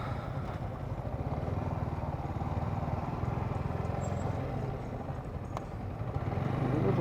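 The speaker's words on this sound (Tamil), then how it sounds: "ஏகப்பட்ட பைக் வந்திருக்கு." Motorcycles gather at a track day with a steady, low engine rumble that swells slightly toward the end, several bikes idling or rolling in nearby.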